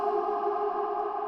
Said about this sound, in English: I've got a really long reverb